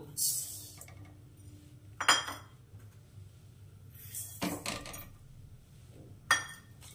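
Lentils for bhuna khichuri are measured out with a bowl beside a pan, making a few soft clinks and clatters of dishware spaced apart over a quiet kitchen background.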